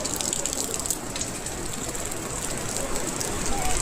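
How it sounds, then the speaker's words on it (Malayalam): Heavy rain pours down in a village on the Nepal–India border beside the swollen Kali river, a dense, steady roar of water that stays loud and unbroken throughout. "ഇവിടെ ഇതാ നല്ല ഗംഭീര മഴ."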